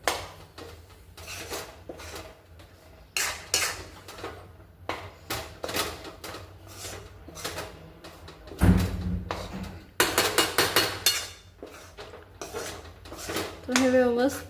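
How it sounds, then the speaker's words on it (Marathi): Besan being roasted with ghee in a pan for besan ladoo, with a spoon scraping and clattering against the metal in irregular bursts, a few louder clanks partway through and near the end. "तर हे व्यवस्थित मिक्स करून घ्यायचं।"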